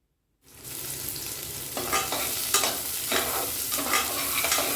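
Shallots drop into hot oil with chili and garlic for a country chicken curry, setting off a sudden loud sizzle that continues with a few stirring scrapes and pops.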